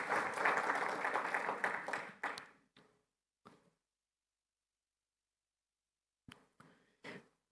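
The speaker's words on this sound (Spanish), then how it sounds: "Damos un aplauso al Señor y a ellos" Congregation in a church claps together, dense applause for about two seconds that thins to a few scattered claps, then silence and a handful of late isolated claps.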